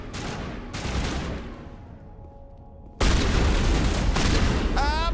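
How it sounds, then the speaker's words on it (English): Shotgun blasts in the Mass Effect video game: heavy booming shots with a sharp crack at the start and middle, the second followed by sustained rattling gunfire and a whining tone, loud and close. "Shotgun."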